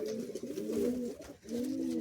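A Doyaj pigeon gives close, clear cooing in two rolling phrases separated by a brief pause, the throaty warble steady and fairly loud.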